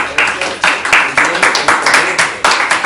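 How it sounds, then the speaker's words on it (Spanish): Students in a math classroom clap together in a brisk, regular rhythm of about a dozen sharp, close group claps in a few seconds. "A ver, un aplauso, muchachos, un aplauso."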